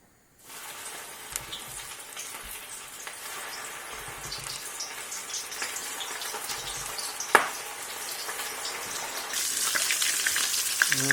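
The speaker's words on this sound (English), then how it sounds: "Time to put them in the fryer." Panko-coated menchi katsu patties deep fry in hot oil, a steady close crackling sizzle with scattered pops and one sharp spike, growing denser and louder toward the end.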